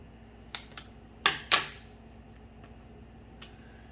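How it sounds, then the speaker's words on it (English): Scissors cut a small copper repair patch, giving a few brief, crisp snips in a quiet room, with two sharper cuts close together and one last faint snip. "So cut a small patch."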